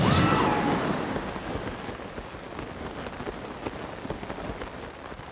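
Steady rain in The Legend of Zelda: Tears of the Kingdom hisses on surfaces in Zora's Domain, a dense patter heard on its own at an even, moderate level.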